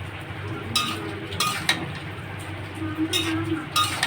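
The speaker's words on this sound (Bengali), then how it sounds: "বেগুনগুলো দিয়ে দিলাম দিয়ে একটু নাড়াচাড়া দিব" Potatoes and eggplant are stirred in a frying pan, a spoon clinking and scraping against the metal in a few short bursts over a soft sizzle.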